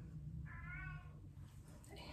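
A house cat lets out a single clear, drawn-out meow indoors, quiet against a low background hum.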